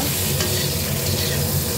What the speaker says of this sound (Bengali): সামান্য একটুখানি নেড়ে নেব।